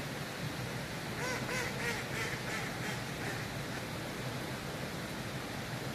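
Mallard ducks quack in a short run of calls beside the Mosson river, moderately distant and faint over a steady rushing water background.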